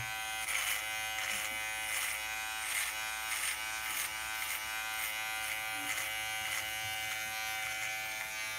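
An electric shaver buzzes steadily and fairly quietly throughout, with slight pulsing as it moves over the hair.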